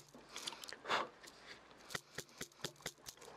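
Sharp mallet taps strike the back of a gouge hollowing the bowl of a wooden spoon, about six distinct knocks spaced unevenly at close range, with faint scraping between them.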